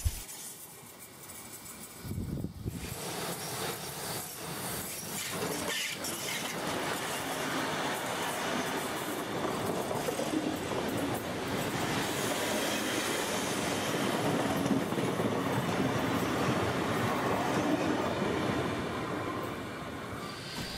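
A City Rail Kiama via North Wollongong passenger train rumbles steadily along the tracks in New South Wales, its broadband roar swelling after a quiet start and staying loud throughout, with no voices.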